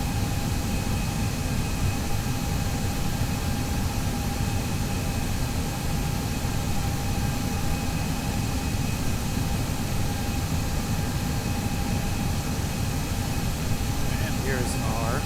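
Airbus A320 jet engines in a flight simulator game, a steady loud whooshing roar with faint tonal hum, continuous throughout.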